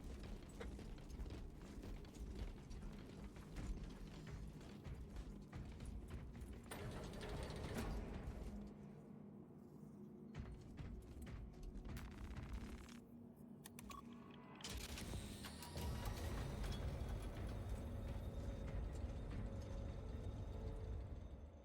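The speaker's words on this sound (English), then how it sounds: "that's a different elevator" Elevator machinery in the video game Space Marine 2 grinds and clanks continuously, a dense mechanical rumble with ratcheting gear noise that dips briefly midway before swelling back, with no talk.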